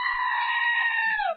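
A soundboard goat scream effect: a single loud, drawn-out, human-sounding bleat that holds steady and bends downward at the end before stopping sharply.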